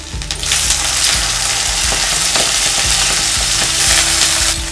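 Cumin, finely chopped ginger and green peas fry in hot oil in a kadai for samosa stuffing, giving a steady, loud sizzle with repeated scraping stirs throughout.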